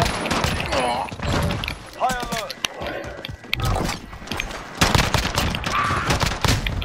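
Rapid video game gunfire crackles in bursts through the clip, mixed with excited voices talking and shouting over the shots.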